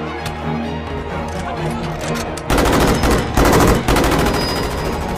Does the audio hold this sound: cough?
no